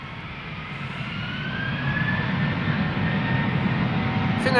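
A British Airways A321 jet at Schiphol, bound for London Gatwick, approaches with a rising engine whine and roar that starts faint and grows steadily louder, a thin tone gliding upward above the rumble.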